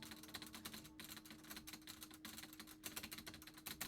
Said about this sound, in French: Désolé pour les bruits de clavier.